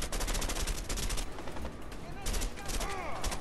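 Loud, dense gunfire in the co-op video game A Way Out, rapid overlapping shots and bursts packed closely together, near and continuous across the moment.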